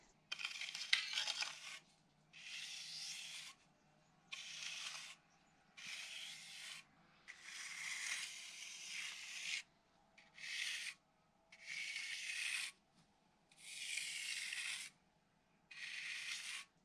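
A small trowel spreads render across a barn wall in a converted barn, giving repeated rough scraping strokes, about nine bursts of one to two seconds with short pauses, close and steady with no talk.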